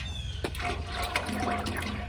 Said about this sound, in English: That's just the pot heating up and the water itself and the oil reacting.